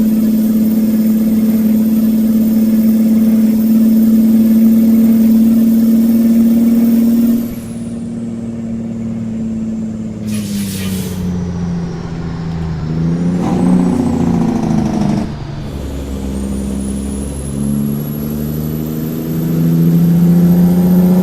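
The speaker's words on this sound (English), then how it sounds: "This truck is just crazy at certain RPMs, man." Simulated Kenworth T100 truck engine in American Truck Simulator, a loud steady drone at high revs that drops as the truck slows, with an air-brake hiss and shifting engine tones after.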